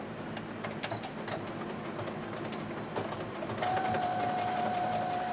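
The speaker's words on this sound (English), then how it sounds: "I'm going to take these to the machine and I'm going to straight stitch them right along here at 5/8 inch" A sewing machine runs a straight stitch along apron pieces at 5/8 inch, with a steady mechanical chatter of rapid needle strokes and light clicks, and a thin whine rises near the end.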